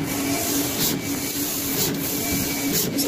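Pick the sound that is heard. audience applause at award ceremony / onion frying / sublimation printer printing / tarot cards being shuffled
sublimation printer printing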